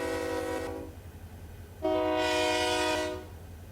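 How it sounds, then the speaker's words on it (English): Locomotive horn in the Run8 Train Simulator game, two sustained multi-chime blasts, a shorter one followed by a longer, louder one, over a low rumbling engine idle. "If you hit Shift F3, Control F3, you can change the horn of your locomotive."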